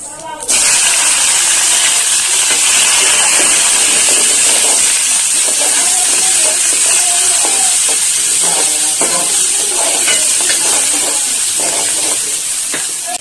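Bay leaf and onion dropped into hot oil with cumin burst into a loud, steady hiss that holds close for the whole stretch, while a voice talks over it.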